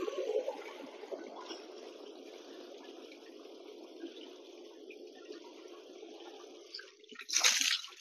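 Water flushes carbon out of the silencer of a 14-year-old Euro 4 motorcycle exhaust, a faint, steady trickling flow that swells into a brief louder splash near the end.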